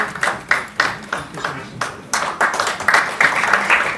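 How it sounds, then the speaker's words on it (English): Scattered claps from an audience at a writers festival keynote session, greeting a musician in bursts that thicken toward the end, with faint voices underneath. "Can we have a round of applause for him"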